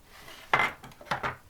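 A cooking pot of about three to four litres is set down while making dumpling soup: a few close clattering knocks of metal on a hard surface, each short and separate, with no voices.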